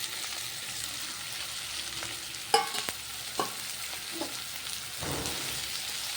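Chopped fenugreek leaves frying in a pan as they are stirred, with a continuous soft sizzle broken by several sharp clinks and scrapes of a spoon against the pan.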